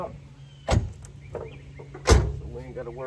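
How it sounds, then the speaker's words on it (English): Two heavy doors of a box-body Chevy shut one after the other, each a solid thump about a second and a half apart, with faint talking in between. "Close these doors up"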